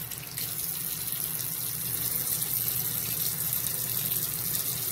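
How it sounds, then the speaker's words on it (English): Warm water runs steadily from a bathroom tap onto a washcloth, a soft, even hiss and splash that carries on alone without pause for the whole stretch. "So I am going to take a warm washcloth and wash it off like they suggested."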